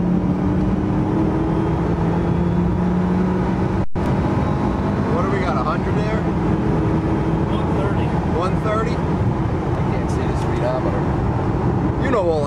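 Ford GT supercar accelerating hard, a loud sustained engine roar with wind and road noise from inside the cabin, a brief sharp cut partway through, and faint voices under the engine.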